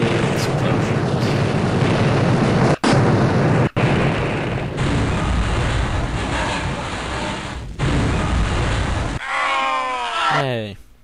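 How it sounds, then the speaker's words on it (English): Explosions in the first-person shooter game Blood, heavy rumbling booms and blasts filling a loud, dense stretch with a couple of sharp cutoffs, ending in a warbling electronic effect. "Yay. Explosions."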